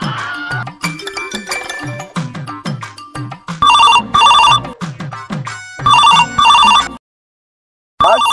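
Telephone ringing with a jangling electronic ring tone in bursts, loud and close, ending in sudden silence, with no talk over it.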